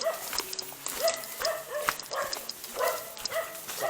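Several dogs barking in short, repeated yaps and bow-wows at mid distance outdoors along a forest trail near a bamboo tunnel and waterfall, the barks coming in loose bursts over faint ambient noise.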